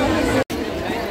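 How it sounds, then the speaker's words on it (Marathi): Dense crowd chatter fills a village fair in Kelva, a steady babble of many voices close around, broken by a brief dropout midway before the hubbub resumes. "जत्रा बघा गर्दी बघा सगळ्यांची डोके दिसतात इकडे"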